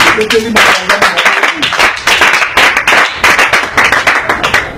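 A church congregation claps in a burst of loud, uneven applause that continues throughout, with voices mixed in among the hands.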